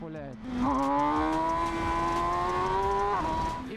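An MV Agusta Brutale 1000RR sport motorcycle engine revs up and holds a high, rising whine for a few seconds before easing off, loud and close.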